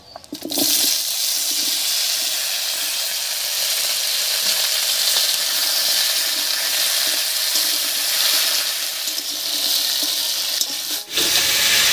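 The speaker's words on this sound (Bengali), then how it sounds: "ফোড়নের উপরে পেঁপেটা দিয়ে একটু নাড়িয়ে নিয়েছি।" Raw papaya pieces hit hot oil tempered with curry leaves, bursting into a loud steady sizzle with occasional stirring scrapes that continues close up without speech.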